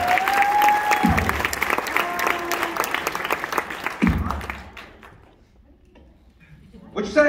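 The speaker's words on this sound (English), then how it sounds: "Let's give them a big round of applause" An audience at a hypnotist and comedian's show at a university applauds loudly and steadily for several seconds before the clapping fades out, while someone talks over it.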